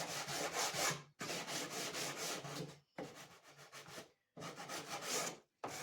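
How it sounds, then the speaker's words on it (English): Hand sanding of wood for a beginner's toolbox, heard as bursts of close, rough rubbing strokes in rhythmic runs with short pauses between passes. "while we're sanding"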